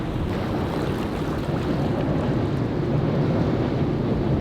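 Water lapping beside a concrete spot in Sydney makes a steady wash of waves, mixed with wind buffeting the microphone throughout, with no voices.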